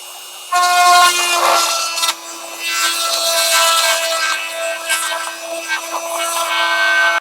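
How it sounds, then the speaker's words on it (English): A Dremel rotary tool cuts along a marked line at the height of a carbon tube during foam trainer aircraft repair, a close, high-pitched grinding whine with rasping variations as the bit bites and eases, steady for several seconds with no talking. "I've set my Dremel to the height of the carbon tube there, and I'm just going to attempt to follow the line there."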